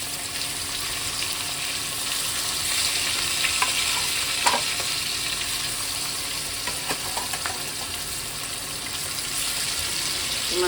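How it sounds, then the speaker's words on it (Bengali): Pieces of catla fish fry in a pan with a steady close sizzle, dotted with small pops and occasional stirring clicks, no talk over it. "এখানে যে মাছগুলো ভেজে নিচ্ছি, কাতলা মাছ।"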